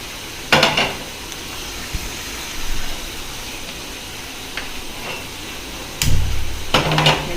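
Raw banana fries in oil in a pan on the stove, a steady close sizzle with louder bursts of hissing and scraping where the pieces are moved around.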